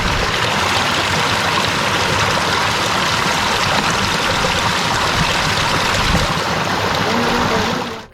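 A rushing mountain stream along the Nandikund trek between Madhyamaheshwar and Pandavshera, where water bottles are being filled. It makes a loud, steady, close wash of flowing water that continues unbroken throughout.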